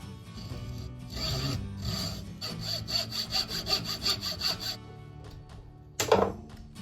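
A handsaw cuts through the rounded end of a wooden dowel with a quick run of steady back-and-forth strokes, close and fairly loud, ending in a short sharp snap as the piece comes free.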